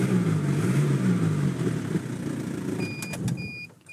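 A 1997 Mazda Bongo Friendee's 2.5-liter turbo diesel engine idles with a steady low rumble for several seconds, then gets cut off, leaving a few faint clicks and high electronic chimes as it winds down.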